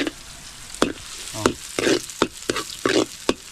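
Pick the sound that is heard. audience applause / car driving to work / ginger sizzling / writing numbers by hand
ginger sizzling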